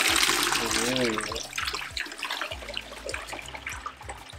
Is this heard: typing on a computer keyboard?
no